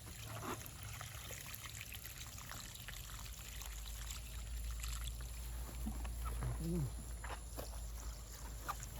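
Water poured from above onto freshly potted herbs in homemade potting soil with fertilizer, a soft continuous trickle and splash under low rumbling background noise, with a person talking in the clip.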